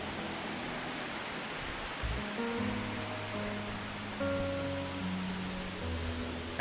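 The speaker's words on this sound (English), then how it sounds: "you can hear the sound of the water flowing down." A broad, steady rush of a waterfall fills the scene, constant and fairly close, with faint low tones underneath, at a resort among mountains and plantations in Coorg.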